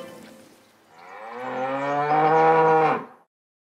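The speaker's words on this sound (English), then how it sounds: "The cow was too stubborn, so they gave up trying to move her." A single long cow moo, close and loud, rising from a low start into a full drawn-out bellow that cuts off abruptly after about two seconds.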